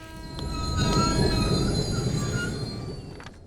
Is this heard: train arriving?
yes